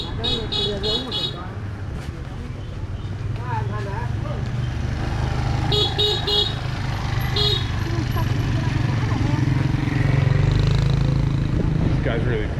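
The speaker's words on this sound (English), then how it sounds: "These guys really break your balls with their honking" Busy street traffic in Hoi An, Vietnam, with cars and motorbikes tooting short horn bursts repeatedly over a steady engine rumble, while someone talks throughout.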